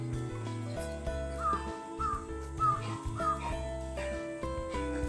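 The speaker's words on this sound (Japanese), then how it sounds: "これカラスまでカーって言うようになった" A crow caws four times in steady succession at an ostrich farm in hot evening weather, each harsh call clearly audible over continuous background music.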